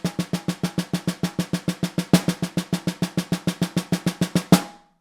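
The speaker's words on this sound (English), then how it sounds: "So if I just played it without the dynamics, without the buzzes, it would sound like this." Snare drum playing a steady exercise at even volume with no buzz rolls, a fast regular stream of crisp single strokes with two louder hits, close and alone before a brief ring-out.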